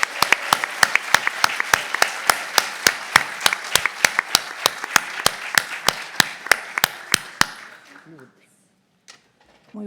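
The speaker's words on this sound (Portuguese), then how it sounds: "Penso que essa equipe merece nosso aplauso." An audience applauds a team at an academic event: dense crowd clapping with one sharp, steady clap close by, lasting about eight seconds before fading abruptly into near silence.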